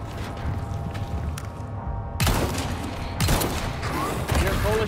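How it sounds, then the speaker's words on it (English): Gunfire in Resident Evil 4 Remake, played on Hardcore: several sharp, close shots in quick succession, each a hard crack with a ringing tail, over a busy game background and a voice. "I shot the motherfucker."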